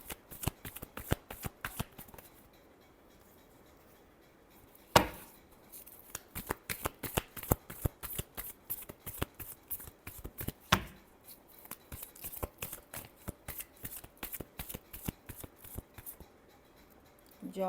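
Tarot cards shuffled by hand in rapid bursts of crisp riffling and snapping, repeating in quick rhythmic runs with brief pauses, close and clear.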